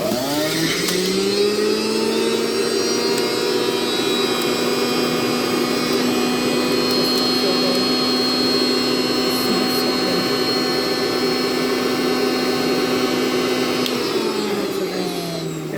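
Magic Bullet Mini juicer, model 220826, juicing ginger, its motor spinning up into a loud, steady, high whine that holds for about thirteen seconds before winding down.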